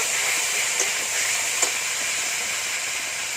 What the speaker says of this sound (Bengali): ওই তেলে দিয়ে দেবো পাঁচফোড়ন দিয়ে দেবো পুঁই ডাটা আলু সেদ্ধ করা ভালো করে ভেজে নেব